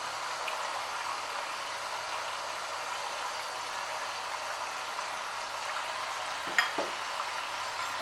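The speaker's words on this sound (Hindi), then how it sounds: "लहसुन अदरक में चिकन जो है ना वो भून रही हूँ मैं" Chicken browning in garlic and ginger in a pan for a Punjabi-style chicken korma, giving a steady, soft sizzle with a brief clink near the end.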